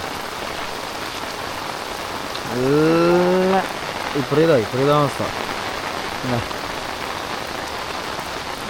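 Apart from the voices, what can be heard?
heavy rain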